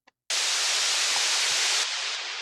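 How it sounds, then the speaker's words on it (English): A single synth oscillator voice in Ableton plays a white noise wave, starting abruptly as a loud, steady, pitchless hiss that fills the whole range, then drops slightly in level near the end. "it's playing a noise wave, white noise wave"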